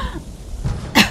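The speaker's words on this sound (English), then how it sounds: "Oh, I'm coughing." A single sharp cough bursts out near the end, preceded by quiet low breathing and room noise; the cougher is sore after overdoing a gym session.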